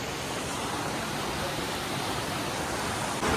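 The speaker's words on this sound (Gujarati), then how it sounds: "તો આ બહુ બધા નાના નાના ઝરણા પડે." The Dugarwadi waterfall in Maharashtra, fed by many small streams, roars as a dense, steady rush of falling water, loud and close, with no voices.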